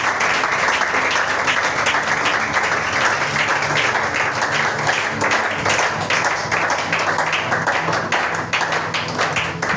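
A church congregation at a morning prayer service applauds in sustained, dense clapping that holds steady and close for the whole stretch, with faint voices mixed underneath.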